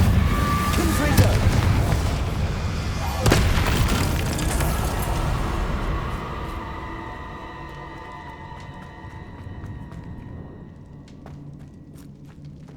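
Confringo blasting spells burst in Hogwarts Legacy, a couple of loud booming explosions early on that fade into a long rumbling tail, with voices calling out spells around them.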